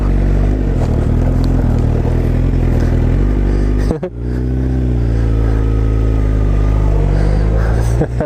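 A Suzuki GSX-R motorcycle engine rumbles loudly and steadily while riding in snow, with a short dip and then renewed throttle, heard close up.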